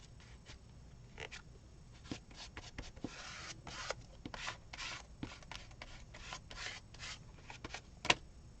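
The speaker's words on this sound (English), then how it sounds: "I'm just trying to use up what's left of this paint. Scraping it as much as I can." Leftover paint being scraped across a surface for mixed media prints, a series of quiet, close rasping strokes in an irregular rhythm, with one sharper tap near the end.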